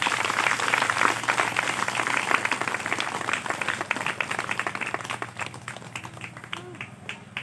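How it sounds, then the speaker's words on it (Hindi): A church congregation at a Hindi sermon claps steadily for several seconds. The dense applause fills the room and gradually thins toward the end. "सब ताली बजाएं यीशु मसीह के लिए।"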